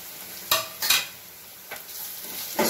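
Spoonfuls of cumin, coriander, black pepper and red chilli powder stirred into jackfruit curry masala frying in a pan, with a few scraping strokes and soft sizzling between them, close and moderately loud.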